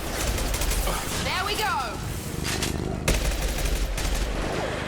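Rapid gunfire rattles in a Mass Effect 2 firefight, dense bursts layered with sci-fi weapon effects and battle noise, continuous and loud while someone speaks briefly over it.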